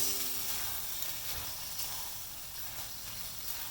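Wet flat rice noodles (kway teow) with cabbage stalks being stir-fried in a wok, giving a continuous loud sizzling hiss that stays fairly even throughout with faint tossing movement underneath.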